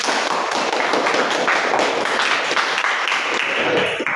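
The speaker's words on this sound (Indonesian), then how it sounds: "Kita tepuk tangan untuk kelompok 1." A classroom group claps for the first team's presentation: dense, steady, close-up hand clapping that runs continuously without a break.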